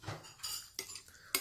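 Jjajang-style ramyeon noodles are tossed with sunflower oil using metal utensils, producing a few quiet, separate clinks and scrapes against the bowl in short bursts.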